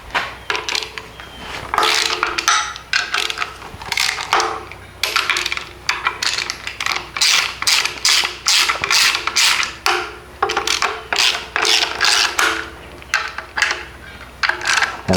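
A ratchet working on the alternator of a flooded Mercruiser boat engine, rapid close clicking strokes repeated in bursts with short pauses, loud and alone.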